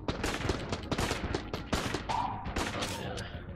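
Rapid bursts of gunfire from the video game Enter the Gungeon, dense overlapping shots and volleys that crackle continuously and loudly across the whole stretch.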